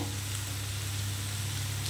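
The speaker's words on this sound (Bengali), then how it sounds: "আমার আলুটা কিন্তু ভাজা ভাজা হয়ে এসছে" Potatoes fry in a pan for a Bengali alu chhachari, giving a loud, steady, close sizzle that holds evenly throughout with no voices.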